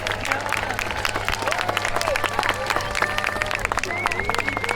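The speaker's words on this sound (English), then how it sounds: "Please give Tester UK a big round of applause." A crowd applauds at a jousting tournament, scattered clapping mixing with a steady hum and outdoor noise, while a voice carries over the PA throughout.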